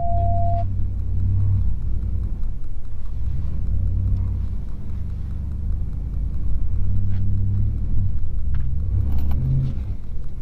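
A Dodge Ram 1500 pickup in two-wheel drive strains up a dirt hill off road, its engine giving a steady low rumble throughout, with slight surges in revs and occasional faint rattles from the cab.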